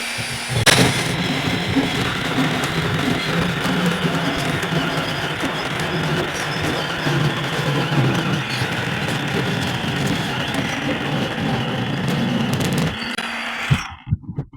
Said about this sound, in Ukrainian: І пробуємо пиляти.